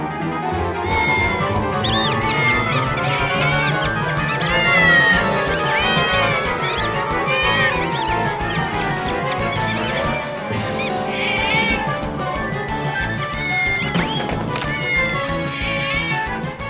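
A cat meows repeatedly over a busy musical background, the cries rising and falling in long drawn-out calls, loud and close throughout.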